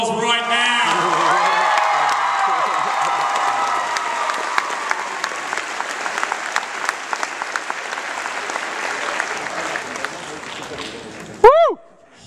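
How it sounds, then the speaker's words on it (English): A large audience at a cosplay convention bursts into sustained applause and cheering with whoops, loud and dense at first and then slowly thinning, before a short sharp shout near the end. "I think we can show our appreciation better with a round of applause right now"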